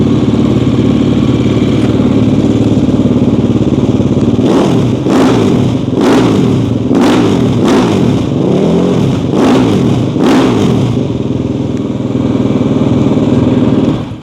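A brand-new Husqvarna SWM RS500R 500cc six-speed dual sport motorcycle idles loudly up close, then its engine is revved in about six sharp, evenly spaced bursts before settling back to a steady idle.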